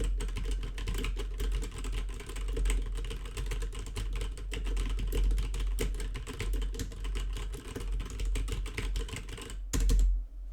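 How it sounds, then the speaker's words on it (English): Continuous typing on a computer keyboard, a dense run of close key clicks picked up by a Neat Skyline desktop USB microphone, with a brief pause near the end and no talking. "So let's go ahead and do some typing."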